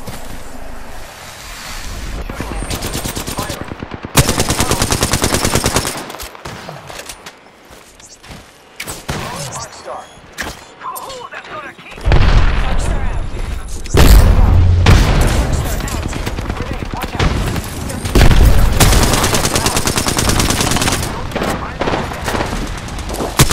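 Video game combat brings loud, dense bursts of rapid gunfire and booming explosions, coming in long sustained stretches with brief quieter gaps, while voices are heard over the action.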